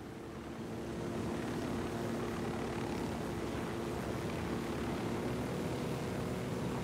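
Helicopter flying in Ghost Recon Wildlands, a steady close rotor and engine drone with a broad whooshing hum that holds constant and alone.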